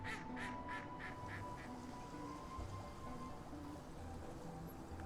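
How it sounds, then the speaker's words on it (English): A rhythmic series of duck quacks from the Fresh Start Cleaning Simulator video game, about eight evenly spaced calls over soft ambient game background, fairly quiet and with no talking. "The ducks mock me, they do."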